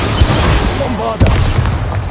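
The Bombarda spell explodes in Hogwarts Legacy with a loud, deep boom followed by a rumbling burst, while a voice speaks over it.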